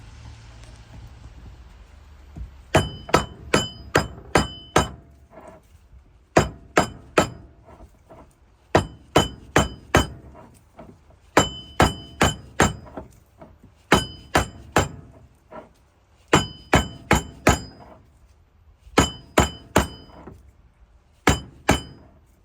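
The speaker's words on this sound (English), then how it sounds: "So I'm just going to give it a few whacks just to get it even as we go around." A hammer whacks a Volvo V70 car part clamped in a vice, sharp metallic clinks falling in quick clusters of three to five blows with short pauses between, close and loud, with no talk.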